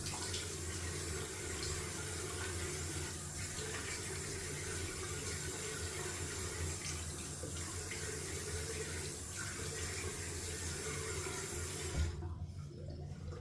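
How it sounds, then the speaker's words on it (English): Tap water runs in a steady, close stream for several seconds, then shuts off abruptly near the end. "Clean up some cold water rinse."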